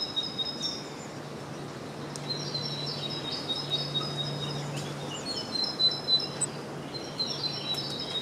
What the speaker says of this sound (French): Les oiseaux, ils chantent pas trop fort.